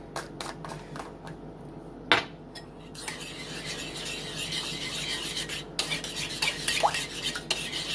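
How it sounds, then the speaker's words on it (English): Close, steady stirring of minced garlic and pepper into a corned beef sauce, with a spoon scraping and tapping the pot, a light sizzle underneath, and no voices. "so stir that in there like that"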